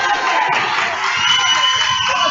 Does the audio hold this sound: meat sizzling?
no